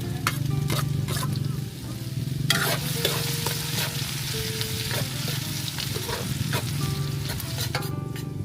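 Ginger sizzles while being sautéed in a pan during outdoor farm cooking, with a constant frying hiss and repeated scraping clacks of a utensil stirring against the pan.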